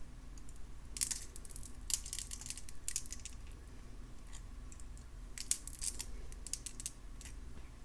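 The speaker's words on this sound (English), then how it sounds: "let me grab the loop with my skinny pliers, grab the tail and do my wraps" Thin jewelry pliers click and scrape while wire is wrapped around a bead pendant loop, giving short, crisp, close-up metallic ticks in irregular clusters over a quiet background.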